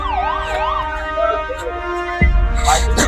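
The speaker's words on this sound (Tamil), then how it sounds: "அது ஆம்புலன்ஸ் சொன்ன மாதிரி தெரியல, போலீஸ் வண்டி மாதிரி தெரியுது." A wailing emergency siren, thought to be a police vehicle or an ambulance, sweeps up and down loud and close for about two seconds before a burst of heavy low rumble and noise swamps it.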